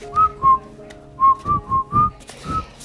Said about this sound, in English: he whistled all the way there, and he whistled all the way home